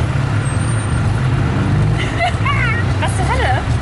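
Tuk-tuk driving the wrong way down a busy Bangkok street at night, with a steady loud engine rumble and dense traffic noise close around, voices talking over it.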